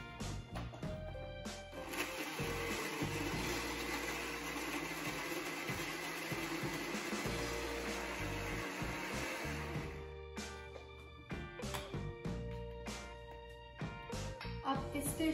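Blender whirring steadily for about eight seconds as it mixes a piña colada, a loud whine that then stops, followed by clunks and knocks of the jug and utensils.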